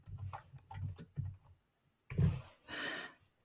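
Quiet computer keyboard typing comes in short bursts of soft clicks, a pause, then two brisk keystroke clusters, close and faint with no talking.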